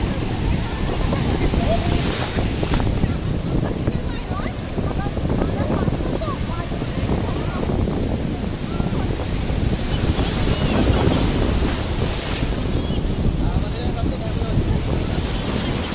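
Sea waves wash continuously onto Digha beach as a steady roar, with wind buffeting the microphone and indistinct voices of bathers mixed in throughout.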